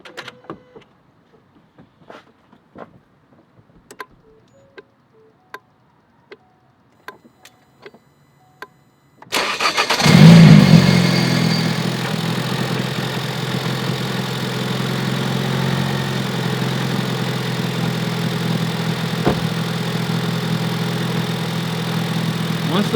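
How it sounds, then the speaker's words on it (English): A 2017 Ford Focus RS cranks and fires after faint clicks and ticks in near silence, then settles into a loud, steady idle with a deep exhaust rumble that holds for over ten seconds. "And then we're going to go ahead and start the car."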